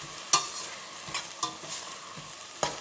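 A spoon stirs vegetable upma in a frying pan with a soft background sizzle, broken by a few sharp scrapes and clinks of the spoon against the pan, with no talking.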